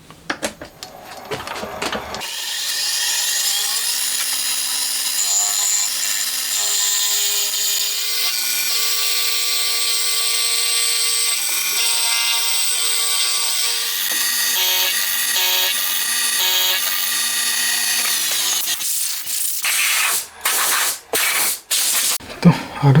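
A cast cylinder head for a handmade 125cc four-cylinder, 16-valve engine being machined, a loud sustained cutting whine with shifting tones that runs for most of the stretch, then stops into scattered knocks and clatter.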